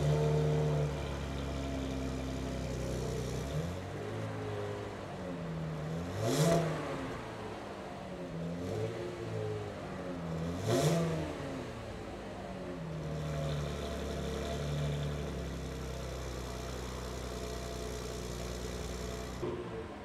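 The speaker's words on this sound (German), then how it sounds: "ich zeige euch jetzt einmal, wie sich das Auto serienmäßig anhört" A stock Chevrolet Camaro with its factory exhaust, engine cold, revs twice in sharp bursts over a low idle rumble, fairly distant and steady between the blips.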